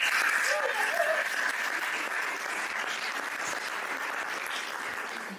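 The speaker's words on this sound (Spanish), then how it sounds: "¿qué les parece si le damos un aplauso a la organización de este lugar?" An audience applauds the organizers of a venue at an introductory workshop, a dense, steady wash of clapping that carries on throughout, with a few faint voices and tones mixed in at the start.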